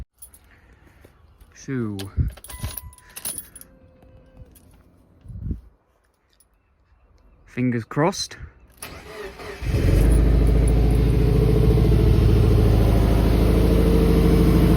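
A Subaru is started with keys: a jangle and talk precede it, then the engine cranks and catches near the end, settling into a loud, steady idle that continues to the close.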